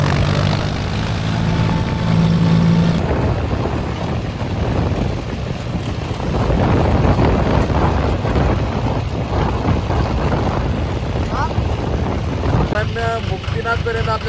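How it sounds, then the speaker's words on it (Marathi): Riding on a tractor on the road through Nepal towards Muktinath, the engine drones loud and steady throughout while voices talk over it. "पुन्हा एकदा ट्रॅक्टरवर लिफ्ट भेटली."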